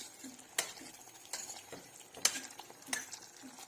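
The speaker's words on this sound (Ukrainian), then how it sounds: "Накидаємо в соус перемішуємо." Cooked pasta tossed into a pan of sauce for Italian-style meatballs, with a few distinct spoon clinks against the pan spaced through quiet, wet stirring.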